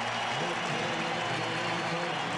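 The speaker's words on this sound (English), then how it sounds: "the crowd gets into it with their rally towel" Baseball stadium crowd during a Game 7 broadcast, waving rally towels and cheering, a dense, steady roar and applause filling the space from a distance, unbroken across the moment with no clear individual voices.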